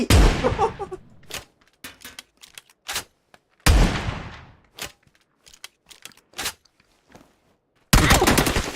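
Gunfire in PUBG, a few loud sharp shots with trailing echoes spaced several seconds apart, separated by quick bursts of distant cracks and clicks.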